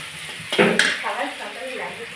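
Food frying in a pan during home cooking, a soft steady sizzle with a couple of stirring clatters near the start, close and moderately loud.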